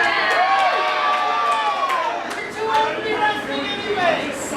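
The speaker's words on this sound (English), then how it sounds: "Mokele getting a good ovation though. Oh, look at that. Crowd fully behind Mo." A wrestling crowd roars and cheers in an arena ovation for the wrestler Mo, with whoops and shouts rising and falling over a few seconds, and a commentator talks over the noise.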